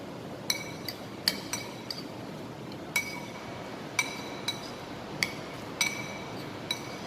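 Tomato paste being mixed into cabbage roll stuffing in a bowl with a utensil, producing bright, ringing clinks against the bowl at an irregular pace, about a dozen taps over a quiet background.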